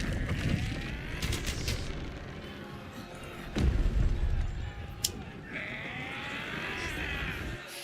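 Cannon fire booms out in a Baldur's Gate 3 battle scene at a gate under goblin attack, one deep blast standing out from a dense mix of game effects, clatter and ambient noise.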